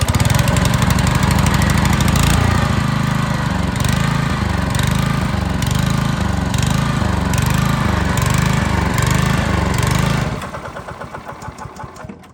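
Honda push lawn mower engine, cold after a week unused, running steadily with a loud, pulsing mid-range drone for about ten seconds, then cutting off abruptly into sputtering, fading stops.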